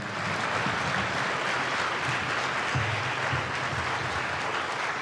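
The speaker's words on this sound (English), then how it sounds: "Let's give one more round of applause for those guys." Steady, even applause from a concert audience after an all-county school band performance, a continuous soft roar of clapping without a break from start to finish.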